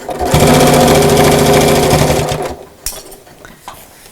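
A sewing machine stitches through quilted fabric for a shopping bag in a fast, loud, even run of mechanical whirring that stops after about two seconds, followed by a few quiet clicks and fabric handling.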